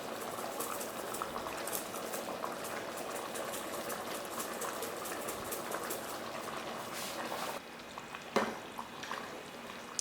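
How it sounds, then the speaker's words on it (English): Smoked egusi soup with Cameroon pepper boils steadily in a covered pot, a continuous close bubbling and simmering hiss that carries on alone for the whole stretch, with a brief lid clink near the end. "I'll still cover it back to boil"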